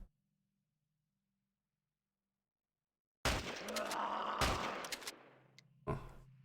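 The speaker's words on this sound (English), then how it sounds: "And the shotgun." Shotgun blasts in the turn-based sci-fi game Stellar Tactics: after silence, a loud burst of several sharp reports in quick succession with a lingering rumble, then one more crack near the end.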